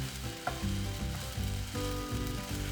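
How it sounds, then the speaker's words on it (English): Tomato stir-fried with bacon, egg and fried rice in a hot pan, a steady close sizzle with spatula scrapes and tosses throughout. "you stir fry the tomato, combine it with the fried rice for a couple of minutes"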